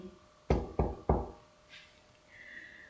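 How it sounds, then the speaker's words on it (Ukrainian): Three quick, soft knocks on a wooden door, evenly spaced and close by, followed by a quiet pause with faint room noise. "Іде вона до сусідки та й несміливо стукає в двері."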